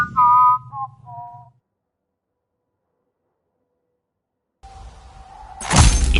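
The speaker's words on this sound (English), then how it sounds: "Engaging whistling subroutine." A robot in a video game whistles: a synthetic, electronic-sounding whistle of a few short tonal notes, then silence, followed by a sharp crash or shattering burst.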